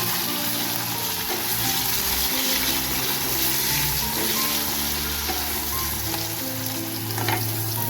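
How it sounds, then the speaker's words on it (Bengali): Onions fry in a pan with salt and turmeric, producing a loud, continuous close-up sizzle with a watery bubbling texture and occasional stirring, no speech. "পেঁয়াজটাকে খুব সুন্দর করে ভাজবো"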